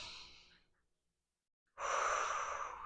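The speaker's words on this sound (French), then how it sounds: "Et là, inspire par la poitrine." A single breath drawn in through the chest, heard as a soft exhale fading out, then a pause and a strong, close airy inhale.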